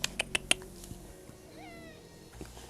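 Pet cat Lola May gives a few soft, close meows, the last one drawn out and rising, with some light handling noise before it.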